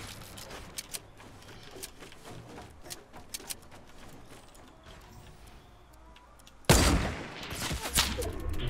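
Fortnite Battle Royale gunfire: sparse, faint clicks and pops at first, then a sudden loud burst of rapid shots near the end, with no talk over them.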